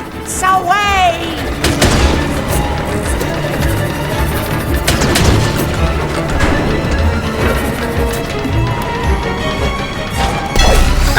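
A cannon fires in the LittleBigPlanet 3 video game, a loud crashing boom inside a dense, busy mix of game music and effects, with a voice speaking over it.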